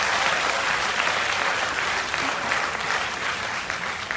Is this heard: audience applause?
yes